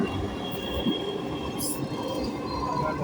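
Dhaka metro rail train running toward Uttara North near Mirpur 10, heard from inside as a steady loud rumble with high wheel squeal, no speech.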